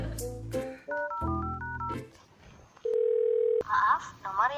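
Telephone tones play while calling a customer service center: a short run of beeps, then a steady held tone lasting nearly a second, mixed with voices talking before and after.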